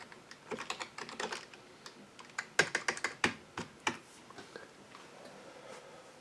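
Someone types a Linux command on the keyboard of a 2013 Shuttle X50V4 Celeron computer: a quick run of close, crisp key clicks in bursts, thinning to scattered taps and then stopping.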